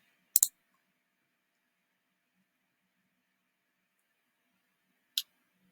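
A computer mouse clicking: a quick double click near the start, then a long quiet stretch before one more single click, crisp and close in a silent room.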